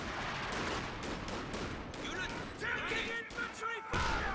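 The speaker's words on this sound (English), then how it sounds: "popping off shots at the 50 cal, forcing it to backpedal a little bit" A .50 cal machine gun fires in a Company of Heroes-style World War II strategy game, rapid bursts of gunfire popping amid battle noise and other weapon shots, with commentary voices talking over it.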